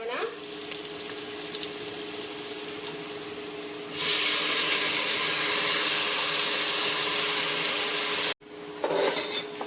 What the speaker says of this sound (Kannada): ಈರುಳ್ಳಿ ಸ್ವಲ್ಪ ಫ್ರೈ ಆಗಿದೆ. ಅದಕ್ಕೆ ನಾವು ಅಕ್ಕಿನ ಹಾಕ್ಕೊಳ್ಳೋಣ.